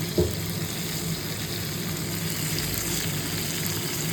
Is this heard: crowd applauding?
no